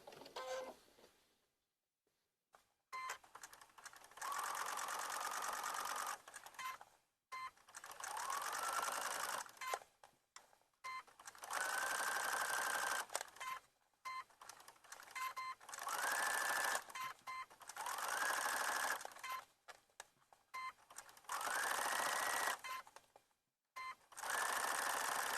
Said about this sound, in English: So I have my machine set about 3 1/2 for a nice top stitching. And I'm going to sew close to the fold.